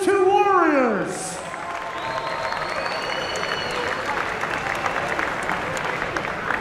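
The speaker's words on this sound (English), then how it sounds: "Ladies and gentlemen, can we please have a round of applause for these two warriors?" Crowd applause and cheering at a hybrid rules combat sports event fill the venue after an opening burst of voices, with sustained clapping and scattered shouts continuing steadily.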